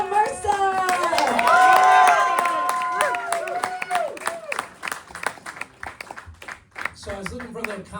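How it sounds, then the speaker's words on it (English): Comedy club crowd clapping for a stand-up comic, with loud whoops and cheering voices riding over the applause early on before the clapping thins into scattered hand claps. "start clapping right now for Rob Mercer"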